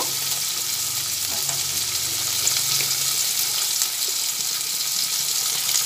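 Pointed gourd frying in oil with turmeric makes a continuous, even sizzle, with light stirring scrapes now and then and no voices.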